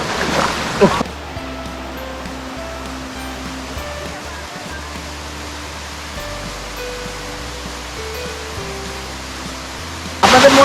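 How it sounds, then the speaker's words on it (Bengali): On the Harinmara trail, a waterfall swollen by the rainy season roars as a steady broadband rush, with louder splashing at the start and end and a person speaking over it. "এই জন্য ঝর্ণায় প্রচুর পরিমাণে পানি দেখা যাচ্ছে"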